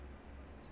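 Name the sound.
northern waterthrush song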